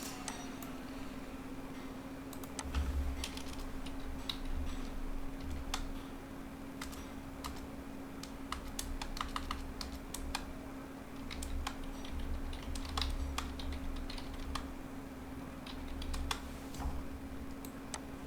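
Computer keyboard typing while entering Hindi text, steady irregular key clicks close by over a faint constant hum, with no talking.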